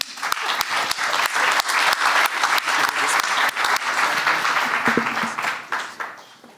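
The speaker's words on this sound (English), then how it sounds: "I'm gonna now give you a round of applause" An audience at an AI policy event claps for lightning talk presenters: sustained, loud applause with sharp individual claps standing out, tapering off toward the end.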